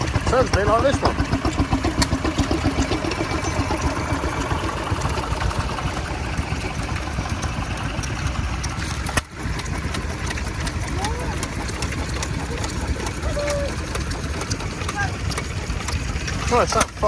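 A vintage stationary engine runs steadily at low revs at an outdoor steam and vintage show, its irregular chugging beat continuous throughout, firing about every 20 revolutions, with voices talking over it at times.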